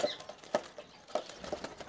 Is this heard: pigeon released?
yes